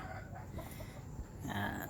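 Chickens cluck softly nearby over a steady outdoor background hum, with a few brief fowl calls.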